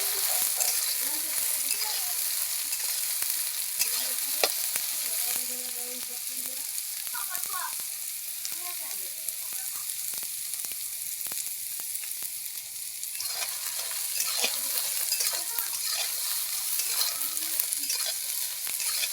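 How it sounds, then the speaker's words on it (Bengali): Soybean chunks frying in hot oil in a pan, a steady close sizzle with scraping strokes of a spoon stirring them through the whole stretch. "এবার হালকা করে নাড়ছি আমি।"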